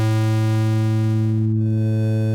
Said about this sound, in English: square wave,